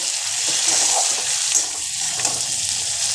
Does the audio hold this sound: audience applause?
no